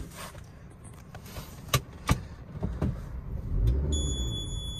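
A Maruti Baleno running on aftermarket CNG starts up with a few clicks and thumps, then a low engine rumble settles in as a short electronic welcome tone sounds.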